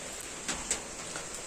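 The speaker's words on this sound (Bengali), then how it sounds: "এই যে বৃষ্টি পড়ছে, বৃষ্টি তো মনে হয় আজকে এরকমই থাকবে, কমবে না" Rain falling steadily outdoors gives a soft, even hiss with a couple of brief louder drops or taps, quiet and unbroken for a moment with no voices.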